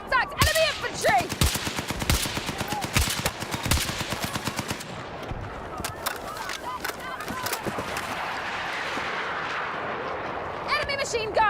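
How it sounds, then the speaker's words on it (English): Machine gun and artillery fire in the video game Squad, with dense bursts of rapid shots and heavy booms crowding the first half, then thinning to scattered reports over rumbling battle noise, with brief radio-style voices. "Enemy machine gun!"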